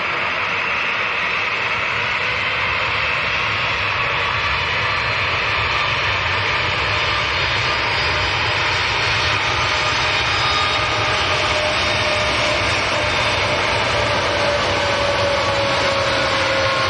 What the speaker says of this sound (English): I would imagine this will be far from a full power takeoff.